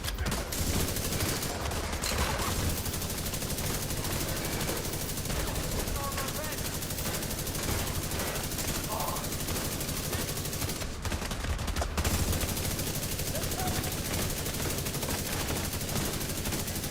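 An LMG light machine gun in The Division 2 video game firing sustained bursts, a dense, unbroken rattle of gunfire with explosions mixed in, steady and loud throughout with brief pauses.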